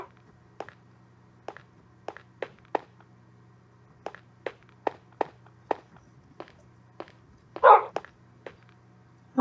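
In the video game Minecraft, dogs move about with a string of light, evenly spaced pattering steps or taps, close and fairly soft, then a brief louder burst near the end.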